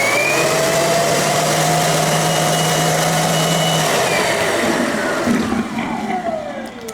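An EGO 56V cordless 9-gallon wet/dry vacuum running on turbo gives a loud, steady motor whine with a high tone, easing and tapering toward the end as the sound shifts.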